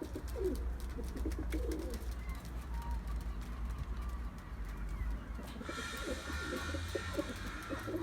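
Pigeons coo softly in a loft or yard, their low rolling calls repeating under a steady background of faint ambient noise and light rustling.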